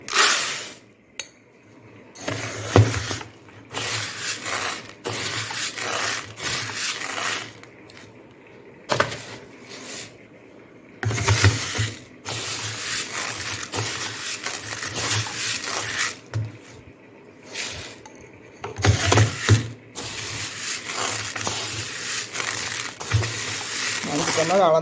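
Idli rice being measured out by the tumbler and poured into a container, a granular rushing pour that comes in several bursts over about twenty-five seconds, with clatter between the pours.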